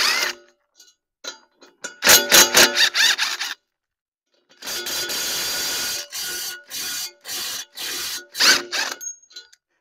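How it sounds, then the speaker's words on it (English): Bolts being backed out of the impeller bushing on a vacuum, heard as bursts of metallic ratcheting and clanking from a hand tool, close and loud, with a steadier whirring run in the middle and short pauses between. "we're going to back out these bolts"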